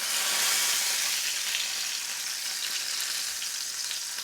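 Crispy-skin salmon fries in a pan just after being flipped, a dense steady close-up sizzle with no talking.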